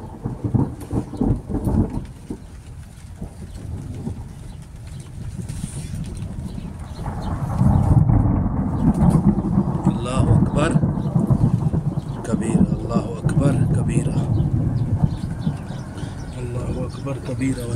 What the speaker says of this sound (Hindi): ये जो गरज की आवाज़ है ना बहुत ज़्यादा इस दफा